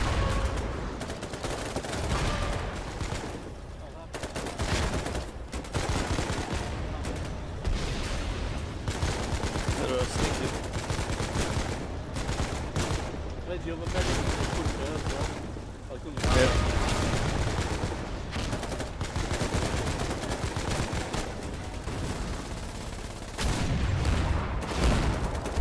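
Gunfire in a siege video game battle: dense, continuous volleys of shots and booms fill the whole stretch with barely a break, loud and busy, under occasional talk.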